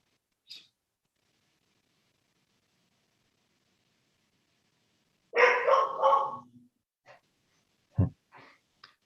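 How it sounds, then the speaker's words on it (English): A dog barks in a short burst of a few yaps over an online planning commission meeting, followed by a couple of faint isolated sounds against otherwise near silence. "Dog isn't muted."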